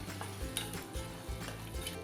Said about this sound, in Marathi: थोडं थोडं पाणी घालायचं आणि मिक्स करून घ्यायचं